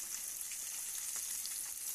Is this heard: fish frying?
yes